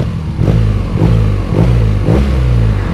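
Engine of a 2018 BMW R nineT motorcycle revving in repeated bursts, about four blips rising and falling over a steady loud idle, close by with no talk.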